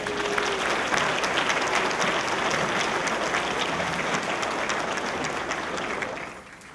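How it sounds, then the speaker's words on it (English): A large audience at a county public safety valor awards ceremony gives a sustained round of applause, dense and even, fading out near the end. "Please join me in acknowledging our public safety personnel with a round of applause."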